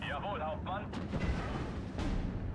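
An 82 mm mortar firing in the WWII strategy game Steel Division, heavy booming blasts with rumbling tails after a brief stretch of talk, a second report landing near the end.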